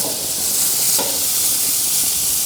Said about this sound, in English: turned on this middle burner so we could get these over direct heat and start getting a nice sear